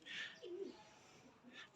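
Teddy pigeons give a single soft, low coo, faint and close, against quiet background noise.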